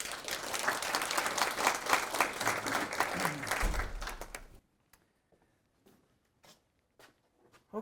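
An audience applauds to welcome a professor giving a lecture, sustained clapping for several seconds that stops abruptly, followed by quiet with a few faint knocks and thumps.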